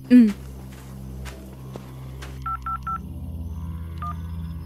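A few touch-tone keypresses beep as a phone number is dialled, short clear tones after a brief voice and some faint shuffling, with a low hum underneath.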